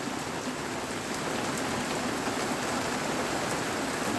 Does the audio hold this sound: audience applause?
no